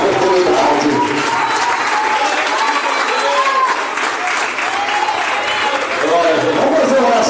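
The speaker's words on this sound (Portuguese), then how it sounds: "quem crê, aplaudindo bem forte" A church congregation at an evening worship service applauds strongly, a continuous loud wash of clapping from many hands that dips briefly midway before swelling again, with voices heard in the crowd.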